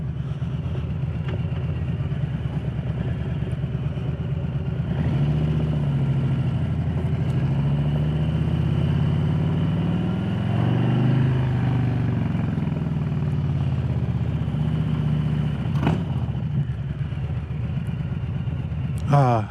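A Harley-Davidson Low Rider S motorcycle cruises through downtown Lakeland at night, its engine giving a continuous low, rumbling drone that swells and eases with the throttle, close and steady, under intermittent speech.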